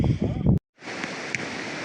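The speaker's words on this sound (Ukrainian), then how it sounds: "Так, друзі, ми зупинилися біля водоспаду невеличкого." A small waterfall beside a mountain road in the Carpathians, heard as a steady, moderately loud rush of falling water that begins after a brief burst of wind-buffeted handling noise.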